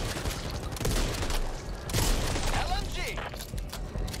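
RPK light machine gun fire in Back 4 Blood, dense rapid bursts under constant game noise and chatter, loud and close with a few metallic mechanical clicks mixed in.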